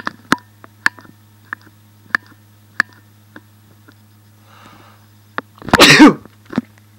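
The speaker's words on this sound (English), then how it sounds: "Okay, quit sneezing." A single close sneeze bursts out near the end, set among a few sharp clicks and ticks and a steady low hum.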